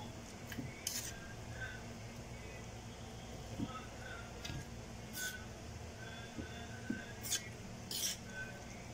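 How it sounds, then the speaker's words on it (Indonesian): Jengkol sambal with terasi being stirred in a pan, giving soft scraping and a few sharp clinks of utensil on cookware, fairly faint against a low steady background. "Oke, kita aduk"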